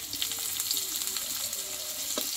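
Chopped onion and boiled garlic frying in oil in a pan, a close, continuous sizzle with light crackles and occasional stirring scrapes, no talking.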